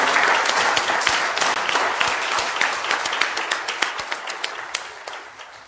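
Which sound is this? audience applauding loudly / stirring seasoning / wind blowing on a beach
audience applauding loudly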